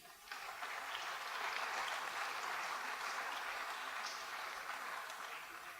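A steady wash of audience applause fills the room at an awards ceremony, even and moderately distant from start to finish.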